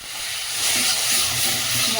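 A splash of water hitting a spice paste of turmeric and Kashmiri chilli powder frying in a pan, bursting into a loud hissing, steaming sizzle that swells and holds.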